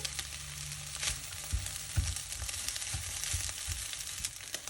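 Cooked rice and egg sizzle steadily in a hot pan, with irregular scraping and knocking of a spatula against the pan as the egg fried rice is stirred, close up and without talk.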